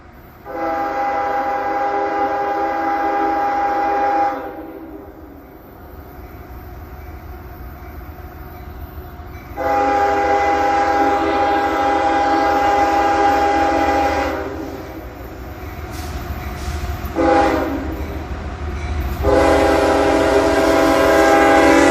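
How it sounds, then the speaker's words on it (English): A loaded CSX coal train led by locomotive 911 passes eastbound on the Old Main Line, sounding its horn in several long, loud blasts over the rumble of the cars, with shorter blasts near the end. "here is my catch of CSX 911 trailing on loaded coal train N769 heading eastbound down the old Main Line subdivision"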